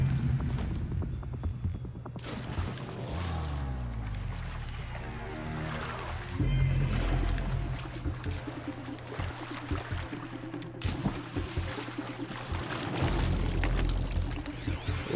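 Water pours and trickles in a ruin within the Horizon Zero Dawn video game, a steady rushing flow layered under electronic soundtrack music and low hum.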